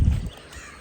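A crow caws once, loud and near, in a single short harsh burst on a street in Alappuzha, followed by quiet background hiss.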